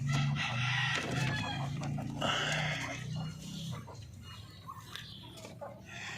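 Parawakan chickens and chicks in a backyard coop, with nearby clucking and peeping calls, a rooster's crow, and a constant busy barnyard background.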